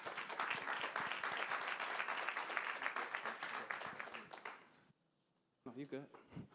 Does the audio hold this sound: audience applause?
yes